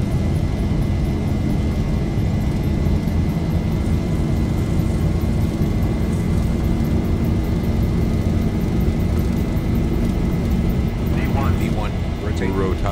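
A Zibo Mod Boeing 737 jet roaring down the runway on its takeoff roll in a flight simulator game, a loud continuous broadband engine rumble throughout with a faint tonal whine.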